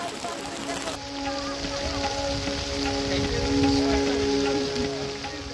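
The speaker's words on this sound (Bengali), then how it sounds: "বৃষ্টির তেজ কমে আসলেও অযোধ্যায় তখনও ঝরছে" Rain keeps falling around a boat moored at a river ghat, a steady close hiss of drops with a low engine-like hum running beneath and no break in the downpour.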